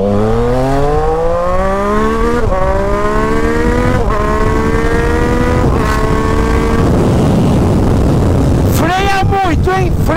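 Yamaha MT-09 Tracer with an Atalla 3x1 stainless steel exhaust pulls hard through several gears, engine pitch rising steadily with brief dips at each shift, loud and close, ending in sharp revs as it slows.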